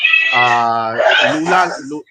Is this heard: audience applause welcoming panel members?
no